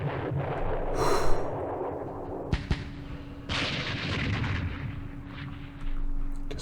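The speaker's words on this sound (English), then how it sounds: "Oh, we got hit by... Lost a whole squad. Frickin' artillery." Artillery fire in the war game Campaign Series Middle East: sharp booming blasts, two quick reports close together and then a heavier burst, over a rumbling battle-noise background with no talking.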